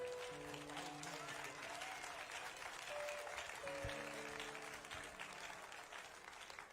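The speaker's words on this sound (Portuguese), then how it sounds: "dá uma salva de palmas bem forte e bem alegre para o Senhor." A church congregation at a large São Paulo worship hall claps in continuous applause, heard softly and at a distance, with faint sustained musical tones underneath.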